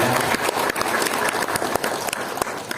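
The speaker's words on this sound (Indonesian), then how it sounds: "Saya minta aplaus terlebih dahulu dong untuk Bapak dan Ibu" An audience at a members' assembly gives a burst of applause, dense clapping from many hands filling the room at close range for a few seconds.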